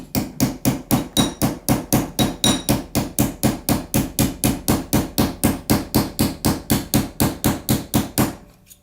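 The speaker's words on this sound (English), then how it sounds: "So first I'm going to hammer these beveled edges" Steady, evenly spaced hammer blows ring out on the beveled edges of a metal jewelry piece being textured with a hammer, about three strikes a second, close and loud, with no talking.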